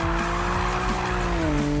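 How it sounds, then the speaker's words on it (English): Tires squeal in a long, loud drift as a car slides through a corner in the Need for Speed 2015 racing game, with the engine droning steadily underneath. "Bust a fat drift around there."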